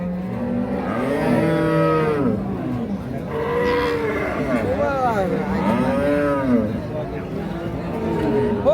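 Repeated drawn-out moos from a young Holstein Friesian dairy cow with a crossbred heifer calf, loud and near, rising and falling in pitch, with people talking faintly in the background.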